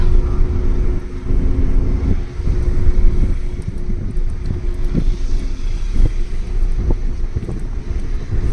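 A car moves along during a driving lesson with a loud, steady engine and road rumble mixed with wind buffeting and occasional thumps, close and continuous, with no talk.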